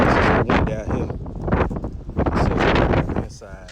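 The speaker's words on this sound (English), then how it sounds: "It's windy out here." Strong wind buffets the microphone in gusts outdoors while someone talks close by throughout, working on a water pump replacement on a 2003 GMC Yukon.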